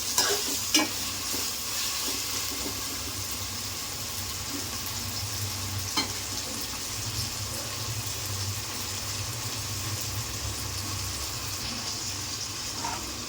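Onions frying with ginger garlic paste for country chicken curry, a loud continuous sizzle with steady stirring and a few sharp utensil knocks near the start, close and without voices.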